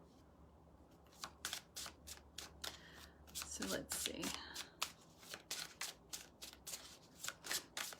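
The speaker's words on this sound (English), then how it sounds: "it can be a little wonky to shuffle" A tarot deck decorated with flowers and butterflies is shuffled by hand in a series of crisp, rapid riffling bursts, close and fairly quiet, with someone speaking briefly in between.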